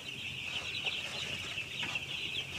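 Broiler chickens on the upper floor of a poultry house keep up a dense, steady murmur of clucking and chatter, a continuous flock noise with no single bird standing out.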